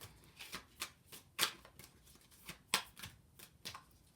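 Tarot cards shuffled and drawn by hand during a reading, a series of close, crisp riffling bursts and slaps in an uneven rhythm, with no talking.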